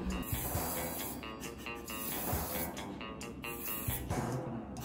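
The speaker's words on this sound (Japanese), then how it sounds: "恒例のスプレーですね。" Hair styling spray hisses in repeated bursts over waxed men's hair at a salon, a close steady series of airy sprays with brief pauses between them.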